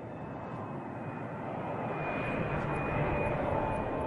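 An airplane flies steadily overhead, a continuous loud engine roar with a faint high whine, swelling slightly toward the end with no voices.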